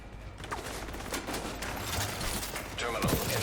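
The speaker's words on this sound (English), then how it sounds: "I do love shotguns when they're in optimal range." Shotgun blasts in a fast-paced first-person shooter game, a few sharp reports rising out of a dense, continuous wash of loud gameplay noise and mechanical clatter.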